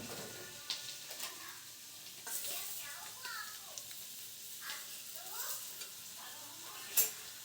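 A spoon stirs salt, chili and spices into paneer in a pan, with soft scraping strokes, faint sizzling and occasional clinks at close range, alongside quiet background talk.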